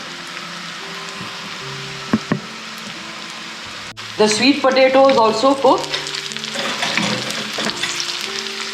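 Steady sizzling of sweet potato stir fry frying in a pan, with a person speaking briefly over the crackle partway through.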